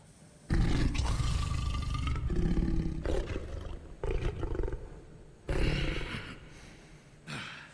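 The Big Bad Wolf in his true form roars in The Wolf Among Us video game, several loud, deep, snarling roars in bursts with short breathy gaps between them.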